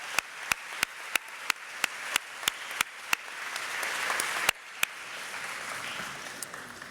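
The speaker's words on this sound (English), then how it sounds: "let's clap again for this fine group of faculty" An audience applauds faculty, staff and coaches at a 2025 convocation. Crisp, evenly spaced claps ring out near the microphone over a softer wash of wider clapping that builds midway and then thins.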